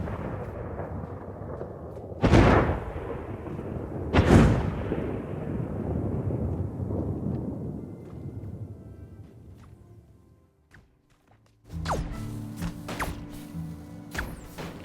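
Remastered shooting effects from the puzzle game Braid: two deep booming blasts with long rumbling tails, then a brief near-silence and a cluster of rapid sharp cracks and thumps.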